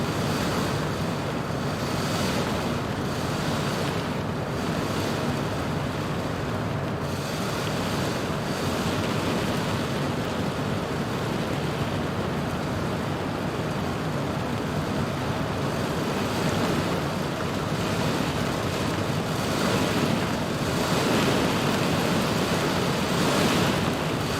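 Strong cyclone winds in Microsoft Flight Simulator during a flight into Cyclone Freddy, heard as a loud, constant roaring rush of broadband noise that swells slightly over time, with no talking.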